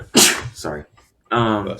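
A single sharp sneeze up close comes in two quick bursts, followed by a brief pause and then someone speaking.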